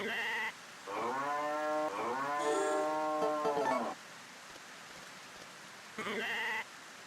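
Several video game sheep and goats bleat in long, wavering calls, one after another with short gaps, close and loud, over a faint steady background hiss.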